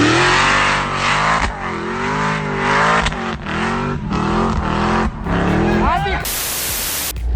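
A 2020 Mercedes-AMG G 63 with a tuned engine drives slowly off-road on sloped ground around a water retention pond. Its engine rumbles and revs close by under continuous talking from the driver.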